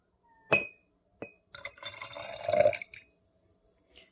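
A couple of sharp glass clinks ring out, then liquid splashes and gurgles into a glass jar of ginger for a tincture, pouring for about a second and a half before tapering into faint drips.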